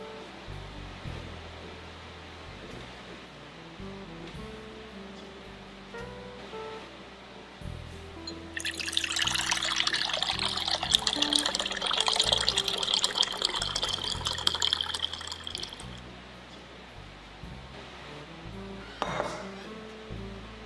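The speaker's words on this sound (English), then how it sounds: "strain off the liquid from the second cooking and add it to the first batch" Hot liquid from cooked Chinese medicinal herbs is poured off through a strainer from a stovetop pot, a steady splashing gush lasting several seconds amid quiet clinks of cookware, then a brief final trickle.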